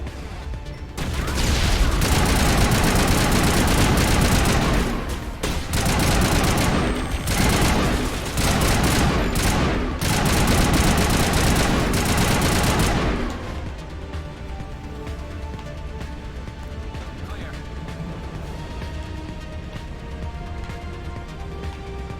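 Heavy gunfire from snipers in the video game Mass Effect on legendary difficulty, loud sustained bursts of shots and impacts for about thirteen seconds, then dropping to a quieter ambient game hum.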